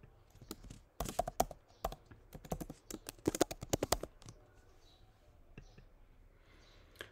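Keystrokes on a computer keyboard entering an email and password for a login, quick bursts of close, crisp clicks in short runs with brief pauses, then quieter.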